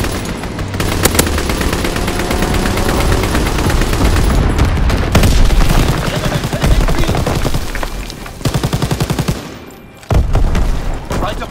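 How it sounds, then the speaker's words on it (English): A fighter plane strafes a target in Call of Duty WWII on the Shipment 1944 map. Loud, sustained machine-gun fire rattles almost continuously with rapid bursts and booms, pausing briefly near the end before the firing resumes. "Fighter pilot inbound, strafing the target."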